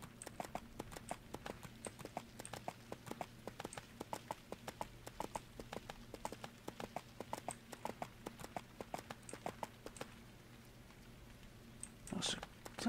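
Horse hooves in the EverQuest 2 video game clip-clopping in a steady trotting rhythm, fairly quiet, before stopping near the end.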